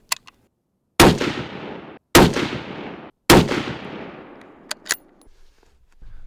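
Three loud rifle shots fired at a target outdoors by a cabin in northern Minnesota, each a sharp crack followed by a long rolling echo, spaced about a second apart, then a few fainter clicks.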